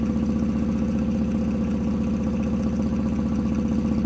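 A magnet-powered pulse motor spins at high RPM on 24 volts, giving a steady, loud mechanical hum with a rapid, even pulsing clatter that holds unchanged throughout, with no voices.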